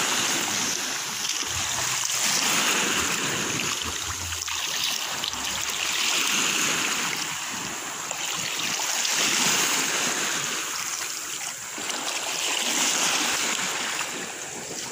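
Steady surf washing ashore at Caridad beach, waves rolling in and breaking in slow swells with a constant hiss of water and light wind.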